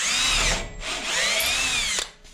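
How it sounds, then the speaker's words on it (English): A power drill whines loudly and steadily, its pitch rising and dipping as it bites into an old shovel's handle, then cuts off near the end. "so I'll drill it out from this side"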